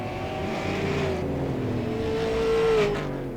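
Late model stock race car at Langley Speedway doing a victory spinout after a dominant night, engine droning steadily with a rising whine and tire squeal toward the end, heard from a distance amid crowd ambience.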